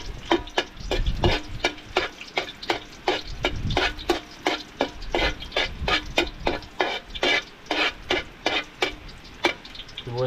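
Garlic sautéing in hot oil in a pan while being stirred, with rapid, rhythmic scraping strokes over a steady, close sizzle, loud and without talk.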